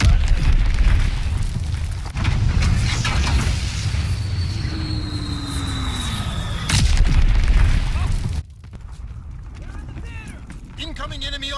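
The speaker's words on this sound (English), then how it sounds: "Incoming enemy artillery, get to cover." Heavy booming artillery explosions in the World War II shooter Call of Duty: WW2, loud rumbling blasts under game voice callouts, with a sudden drop to quieter battlefield noise near the end.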